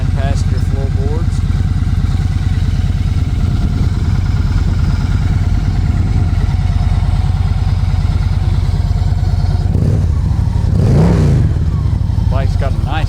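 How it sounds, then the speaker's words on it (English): Victory Cross Country Tour motorcycle engine idling with a steady, loud, close pulsing throb, then a couple of short revs near the end. "Bike's got a nice sound to it."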